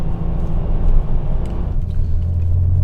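Steady low engine rumble from a 1997 Porsche 993 Turbo with 408 horsepower, heard from inside while driving, a smooth continuous drone that deepens slightly toward the end, with no talking.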